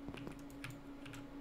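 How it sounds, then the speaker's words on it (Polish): Rapid computer keyboard typing, a short burst of crisp clicking keystrokes close to the mic, with a steady low hum underneath; played during a game session. "O, satysfakcjonujący dźwięk klawiatury"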